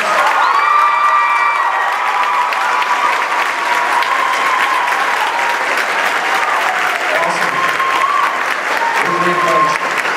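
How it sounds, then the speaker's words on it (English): Sustained audience applause for graduating seniors at a school awards ceremony, steady dense clapping filling the whole stretch with some cheering and whoops mixed in, loud and continuous throughout. "let's get another round of applause for our seniors."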